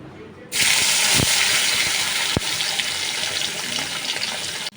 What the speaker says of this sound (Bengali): মাছটা ভাজা দেব